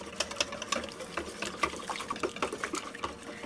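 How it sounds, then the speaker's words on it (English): Water being whisked into a flour halwa mixture makes a rapid, uneven patter of wet slaps and scraping against the bowl, continuous and close for a few seconds with no talking. "So just whisk in a little bit of water."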